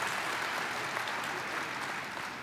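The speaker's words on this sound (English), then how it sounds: "Big round of applause for Tamara and Kathy" Audience applause for Tamara and Kathy at an industry panel event, a brief, even burst of many hands clapping, soft and somewhat distant, lasting a couple of seconds without talk.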